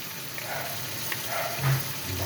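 Spices with turmeric and salt frying in a pan, a continuous close hiss of sizzling oil with faint stirring movements and no talking.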